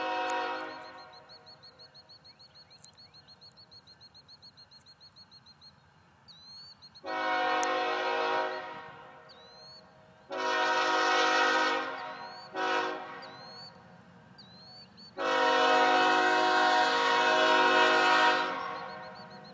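A CSX freight train, Q699-26, passes Monroe Junction in Hamlet, North Carolina, under a steady low rumble of rolling railcars, sounding several loud horn blasts of varying length, some long and some short, close by.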